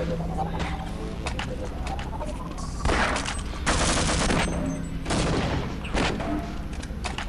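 Automatic rifle fire rattles out in repeated bursts during a tense video game match, loud and close, with a commentator talking over the shooting throughout.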